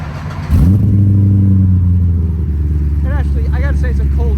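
A modified 2010 Corvette Grand Sport C6 fires up on a cold start, a sharp crank and catch followed by a loud, steady, close-up high idle rumble, with voices speaking over it near the end.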